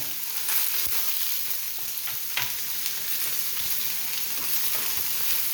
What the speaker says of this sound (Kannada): ಬಾಣಲಿ ಮೇಲೆ ಪ್ಯಾನ್ ಇಟ್ಟಿದ್ದೀನಿ ಎಣ್ಣೆ ಹಾಕಿದ್ದೀನಿ ಈಗ ಈರುಳ್ಳಿ ಹಾಕೋಣ ಒಂದು ಮೂರು ಈರುಳ್ಳಿ